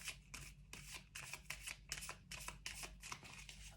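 Oracle cards being shuffled by hand, a quick series of soft riffling flutters and slaps repeating in close, steady bursts with no voices.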